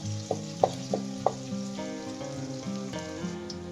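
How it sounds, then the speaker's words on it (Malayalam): Onions frying in a pan in a home kitchen, a continuous sizzle with tonal background sounds layered over it and a few sharper knocks early on; no one speaks. "ഇനി ഉള്ളി ഒന്ന് മൂത്ത് വരട്ടെ കേട്ടോ"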